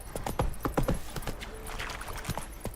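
Hooves of Roach, Geralt's horse in The Witcher 3, clopping in a steady, rhythmic gait, close and fairly loud over a game ambience, with a voice talking over part of it.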